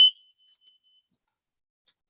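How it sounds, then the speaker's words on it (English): A single short, high electronic beep from a home fire alarm chirps once at the start and rings off quickly into silence. "put on mute so you don't hear my fire alarm"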